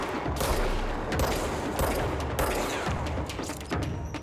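Sustained gunfire in the action game Control, with rapid overlapping shots and bursts forming a dense, loud fusillade for about four seconds, sharp cracks standing out against a constant roar of battle.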